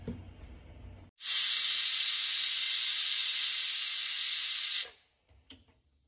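A large pressure cooker holding a spiced dish lets out a single loud, sustained whistle of hissing steam lasting several seconds, starting abruptly and cutting off sharply, with quieter kitchen noise before and after.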